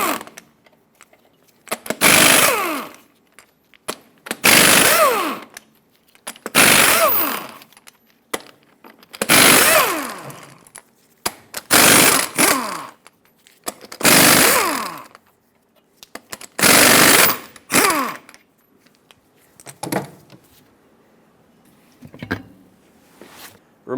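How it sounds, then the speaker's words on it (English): A power tool with a 24mm socket spins lug nuts off the wheel of a 2003-2009 Dodge Ram 2500, about eight loud buzzing bursts separated by short pauses, close up with no talking. "Use a 24mm socket and remove all 8 of your lug nuts."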